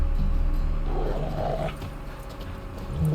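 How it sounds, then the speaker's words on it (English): Dogs growl in The Witcher 3: Wild Hunt, a low, rough rumbling snarl that swells and fades over a few seconds amid faint game ambience, with no speech. "Just beware of the dogs."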